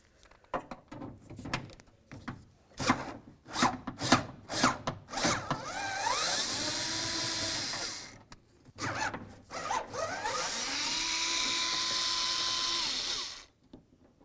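A power tool runs in two long whirring bursts while removing a pair of 10mm bolts from the door handle of a 2000-2005 Buick LeSabre. Sharp clicks and ratcheting come first, and the sound is close and loud.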